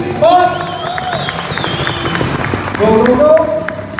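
An audience at a motorcycle show claps and cheers, a broad crowd roar running under a loud announcer's voice, with the applause swelling near the start and again toward the end.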